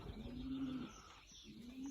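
Pigeons in a young-bird loft coo softly and repeatedly, low throaty calls rising and fading against a quiet indoor background, with faint chirps and no talking.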